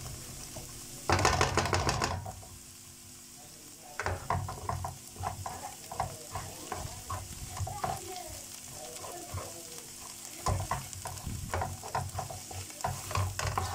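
Fish sizzles in hot oil in a pan while being turned and stirred, bursts of crackling frying broken by brief scraping strokes and pauses, close and fairly loud, with no speech.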